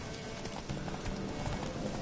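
Roach, the horse in the Witcher 3 video game, gallops with steady, rapid hoof clip-clops throughout, loud and close over a dense broadband game soundscape.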